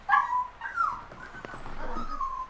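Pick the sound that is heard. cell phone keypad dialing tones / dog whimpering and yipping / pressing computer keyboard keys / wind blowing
dog whimpering and yipping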